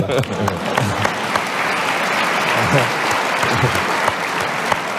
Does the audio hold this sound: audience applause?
yes